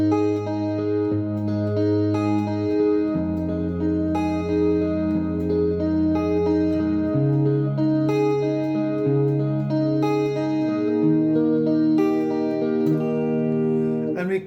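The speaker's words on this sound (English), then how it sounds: "I'm adding a picking pattern to compensate for the lack of the bass guitar" Acoustic guitar plays a song with an added fingerpicked pattern, individual notes ringing over sustained bass tones in a steady, continuous flow, close and clear with no other instruments.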